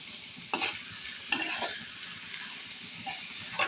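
Garlic butter shrimp stirred in a pan, a few distinct scraping strokes spaced irregularly over a steady background sizzle.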